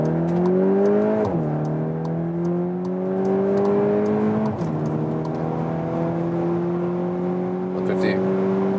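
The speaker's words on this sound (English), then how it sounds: "putting it here into the race mode, and German Autobahn with acceleration from 50 kilometers an hour" 2023 VW T-Roc R facelift, 300 hp, accelerating hard on the German Autobahn in race mode from 50 km/h, engine note climbing steadily through the gears with brief dips at each upshift, heard from inside the cabin.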